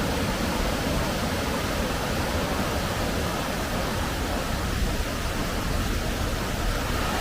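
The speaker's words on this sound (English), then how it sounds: "In front of us are the Clifden waterfalls" The Clifden waterfalls pour in a dense, constant roar of rushing water, a broad unbroken hiss close at hand with no pauses or other sounds.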